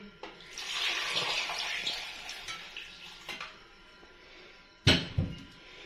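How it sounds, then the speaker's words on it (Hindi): Milk pours into a blender for a fresh strawberry milkshake, a steady liquid splash lasting several seconds, followed by a sharp knock and a brief clatter near the end. "इसमें हम 1 गिलास दूध डालेंगे।"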